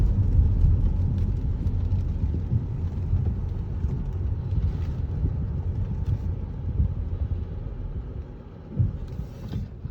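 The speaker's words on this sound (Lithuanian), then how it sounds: "Įsibėgėja automobilis labai gerai." A BMW X3 M40d with a 3.0-litre diesel accelerates, its engine a steady low rumble heard from inside the cabin, fairly loud and continuous with road noise and no talk.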